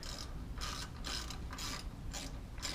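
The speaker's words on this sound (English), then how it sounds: "And now just undoing the nuts" A socket wrench ratchets in quick clicking bursts while undoing the nuts on a Karmann Ghia carburetor, several short runs of close, crisp clicks separated by brief pauses.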